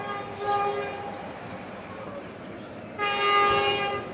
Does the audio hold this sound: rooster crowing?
no